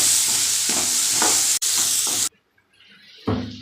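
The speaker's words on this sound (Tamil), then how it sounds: "இஞ்சி பூண்டு பேஸ்ட் நல்லா வதங்கிட்டு தக்காளி சேர்த்துக்கலாம்" Ginger garlic paste sautéing in a pan for a Sunday curry lunch gives a loud, dense sizzle with stirring scrapes for about two seconds, then near silence before a fresh burst of hissing frying.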